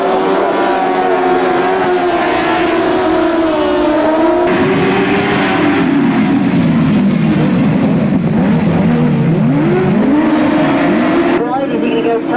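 Speedway-style motorcycles race on a grass track at a bonfire meeting, engines loud and close, pitch rising and falling through the turns, under a commentator's voice.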